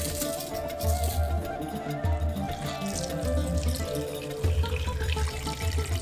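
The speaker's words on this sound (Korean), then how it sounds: "물 1리터를 넣고" Tap water pours steadily into a cooking pot for Arabian beef kabsa, a continuous splashing rush with fluctuating bubbling, close and fairly loud, with no talk.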